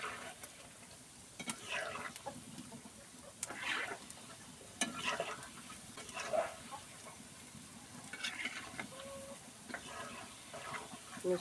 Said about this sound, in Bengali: এবার আমি এইভাবে ঘুরিয়ে ঘুরিয়ে সবগুলো বল ভেজে নেব।